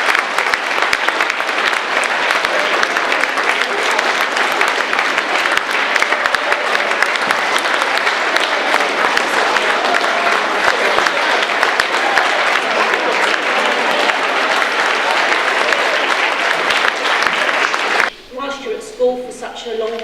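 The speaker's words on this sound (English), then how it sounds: "they're going to hopefully come up onto the stage and receive your round of applause" Audience at a school prizegiving applauds loudly and continuously, a dense sustained clapping from a large crowd that stops abruptly near the end as a voice begins speaking.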